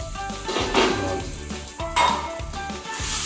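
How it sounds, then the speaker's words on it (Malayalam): A spoon scrapes and clinks against a pan as cooked tomatoes for chicken chukka are stirred over a steady sizzle, with a couple of louder strokes standing out, close and continuous. "നമുക്ക് ഏതാണ്ട് വെന്ത് കഴിഞ്ഞ് നന്നായിട്ട് ഇളക്കി കൊടുക്കാം."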